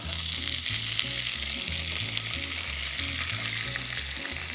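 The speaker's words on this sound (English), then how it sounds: "And then I'm gonna carefully put it in this hot pan." Chopped leek strips hit a hot pan and sizzle loudly and steadily, a bright continuous frying hiss with a faint repeating low hum beneath, no talking.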